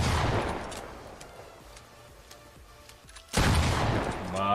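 Shotgun blasts in the video game Fortnite: a loud broadband shot with a decaying tail at the start, then a second heavy blast near the end, with low rumbling between.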